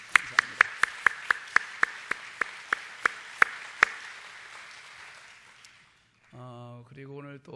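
A congregation gathered for worship breaks into applause to welcome a missionary's wife, a burst of a dozen or so sharp, evenly spaced claps that builds and fades out, followed by a voice speaking alone.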